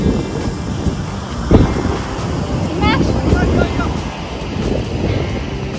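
Wind gusting outdoors during a road trip to Alleppey, a steady broadband rush with a brief buffeting thump, while voices talk over it.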